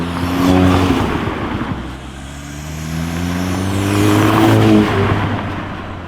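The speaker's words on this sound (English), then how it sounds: "Best place you can hear the intake is on acceleration." A car fitted with an aftermarket open intake accelerates, its engine note rising through a loud, close, sustained roar that dips briefly before climbing again.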